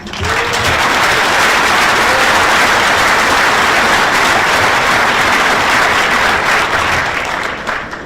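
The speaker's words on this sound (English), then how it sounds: "If you could give them a round of applause" Dense, sustained applause from a large audience at an elementary school band concert, loud and steady for about eight seconds before starting to taper at the end.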